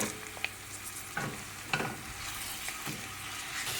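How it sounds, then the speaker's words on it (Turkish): Minced meat and onions fry in hot oil with a constant, close crackle. A few sharp scrapes and knocks from stirring break through at irregular moments, and nobody speaks. "Soğanlarımı bir miktar kavurduktan sonra içerisine kıymamı da ekliyorum."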